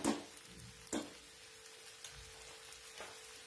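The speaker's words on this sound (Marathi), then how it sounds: "सगळीकडे मीठ लागलं जातं ना, म्हणून छान मिक्स करून घ्यायची" Okra being mixed with salt in a pan, a few scraping stirs and light knocks of a spoon over a faint steady sizzle.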